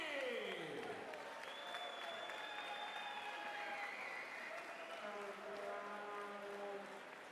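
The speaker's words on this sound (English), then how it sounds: "How about a nice round of applause for the one and only Polish Prince, Ryan Pilsudski!" At a boxing event, the crowd applauds a fighter's ring introduction with a steady, distant wash of clapping, while an announcer's drawn-out voice carries over it and fades.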